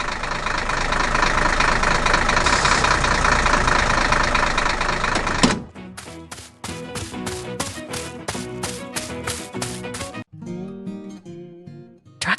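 A tractor engine works hard in a forest beside a large hole in the ground, giving a dense, steady rumble for about five seconds before it gives way to a sparser series of rhythmic tonal knocks and taps.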